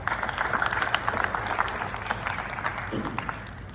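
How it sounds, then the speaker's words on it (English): A crowd at an academic awards ceremony applauding, dense steady clapping that carries on for several seconds before thinning slightly toward the end. "Give yourselves a round of applause for that."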